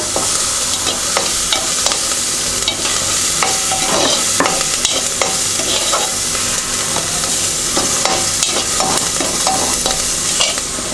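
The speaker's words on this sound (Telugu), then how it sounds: "ఇది కొంచెం ఒక 2 నిమిషాలు వేగిన తర్వాత" Meal maker soya chunks fry in a hot pan while being stirred. A dense, steady sizzle sounds close up, with the scrape and clatter of the spoon against the pan running through it and no voices.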